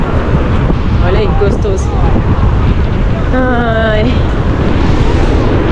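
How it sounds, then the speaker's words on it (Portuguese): Cold wind blowing hard across a beach in Guarujá, a loud continuous roar buffeting the microphone throughout, with a person briefly speaking and exclaiming over it. "mas esse vento gelado aí, né?"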